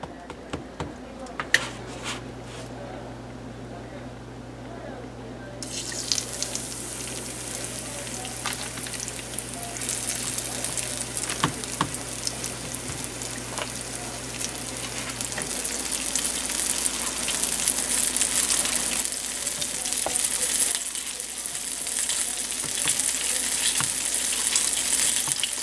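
Flour-dredged chicken breast frying in hot oil, a steady close sizzle and crackle that swells louder partway through and holds, with a low hum beneath.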